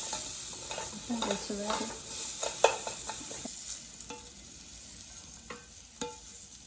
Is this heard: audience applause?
no